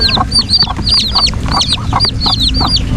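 Newly hatched Black Australorp chicks cheep in rapid, high, repeated peeps, close and loud over a low background rumble, with no talking.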